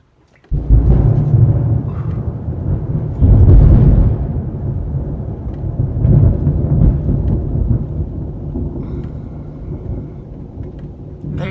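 Thunder from an Arkansas thunderstorm rolls in loud and close, with rumbling swells that rise and fade several times over a steady background wash.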